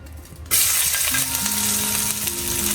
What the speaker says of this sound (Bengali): এবার চুলো জ্বালিয়ে সরিষার তেল দিয়ে ছেড়ে দিন পেঁয়াজ